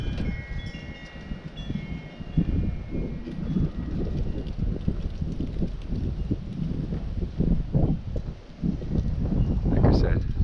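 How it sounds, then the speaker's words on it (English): Steady outdoor wind roars against the microphone, with stronger gusts swelling near the end while a voice speaks over it. "So this is supposed to be like the peak of the wind event."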